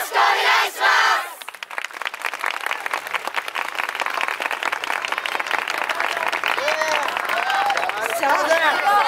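A large festival crowd at a Kyoto yosakoi dance event claps in rapid, steady rhythm and cheers for a dance team, dense sustained applause following a brief announcer's voice, loud and close.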